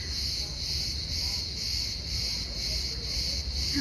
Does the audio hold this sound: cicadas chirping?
yes